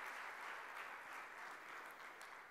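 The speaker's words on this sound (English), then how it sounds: "Can we have a big round of applause for opportunity?" Steady, dense applause from a large audience at a CEF Talks entrepreneurship event, continuous and fairly distant, with no voices over it.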